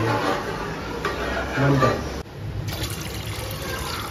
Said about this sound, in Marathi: मी पाणी सोडतोय